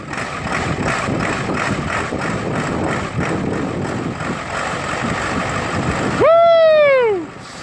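A truck engine cranking and catching in roughly 20-degree cold after relay repairs, with a steady rough rumble running throughout and a sharp rising whine or squeal bursting out loudly near the end before fading.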